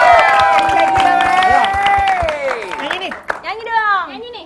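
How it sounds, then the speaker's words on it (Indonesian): Studio audience at an Indonesian TV comedy show claps and cheers loudly while strong sustained whoops and vocal tones ride over the crowd noise; voices stay prominent throughout. "kasih tepuk tangannya mana?"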